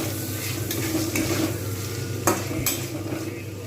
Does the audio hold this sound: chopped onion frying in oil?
yes